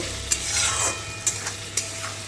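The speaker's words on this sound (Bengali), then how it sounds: "রসুন বাটাটা দিয়ে ভালো করে একটু নাড়াচাড়া করব" Garlic paste frying and being stirred in a pan for a homestyle mushroom dish, a steady close sizzle with a few sharp scrapes of the spoon against the pan.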